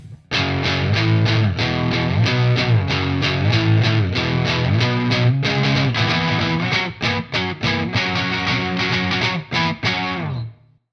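Electric guitar on a single-coil pickup through the B channel of a Two Notes preamp pedal, clean channel with gain added and controls near noon; a loud, slightly driven riff of rapid picked notes and chords played alone, steady throughout.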